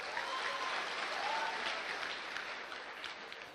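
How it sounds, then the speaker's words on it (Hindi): Audience applause fills a hall at a motivational business talk, a dense, steady wash of clapping that holds loud for several seconds and tapers slightly at the end. "एक जोरदार ताली दरभंगा वाले के लिए।"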